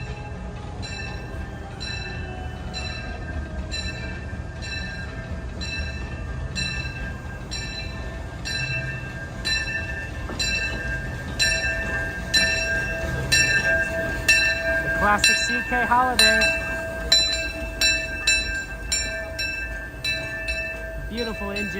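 A Disneyland steam train's engine rumbles steadily while its bell clangs in a regular repeating rhythm, fairly close, with a person talking briefly over it.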